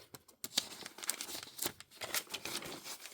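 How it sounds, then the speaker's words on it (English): Crinkly paper pages of a handmade time-traveller-style book with an attached box are handled and turned, giving close, quiet bursts of crackling and rustling in irregular rhythm, with no talking. "I just love the way paper sounds."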